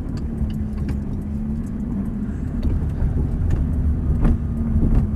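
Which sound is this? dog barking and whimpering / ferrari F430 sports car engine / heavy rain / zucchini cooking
ferrari F430 sports car engine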